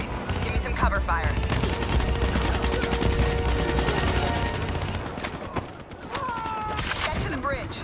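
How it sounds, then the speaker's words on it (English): Sustained gunfire and explosions in a Call of Duty: Black Ops 3 campaign battle, a dense, continuous fusillade with bursts of automatic fire under game dialogue and shouts, tapering off briefly near the end before resuming. "Give me some cover fire."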